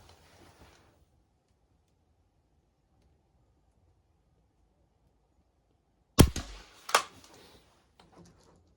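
A Umarex Synergis Elite .177 air rifle fires two sharp, close-range cracks less than a second apart, breaking a long stretch of near silence, each followed by a brief rattling tail.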